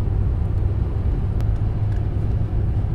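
Steady low rumble inside a car driving on the road, a continuous dense drone with a faint brief tick, no voices over it.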